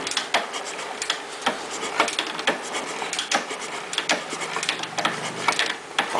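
Oil pump on a Royal Enfield TBTS engine during upper-end work, making a steady, fast, faint ticking and clicking with light mechanical rubbing that carries on throughout.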